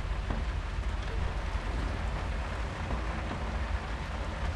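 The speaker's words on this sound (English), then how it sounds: "and it's raining." Rain in the hand-drawn horror video game Mundaun, a steady, even hiss of falling rain that continues unbroken at moderate level.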